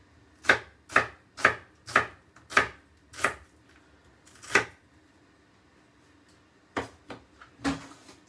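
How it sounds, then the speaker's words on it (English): A knife slicing through a red onion on a cutting board, about a dozen crisp chops in a steady rhythm, then a pause and a few more cuts, close and clear with no talking. "we're just removing the skin from our red onion. Slice it up however you like."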